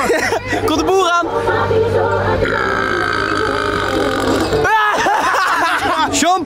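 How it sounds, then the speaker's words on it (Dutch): A long, loud burp stretches across the middle, with excited voices and chatter around it before and after, at a party on a boat. "Komt de boer aan!"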